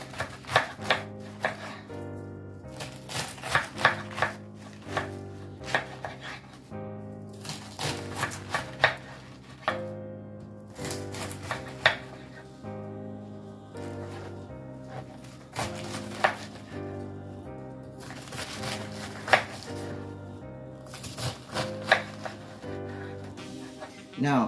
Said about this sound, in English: we're going to give our cabbage a hard chop, which is we're going to slice it and break it down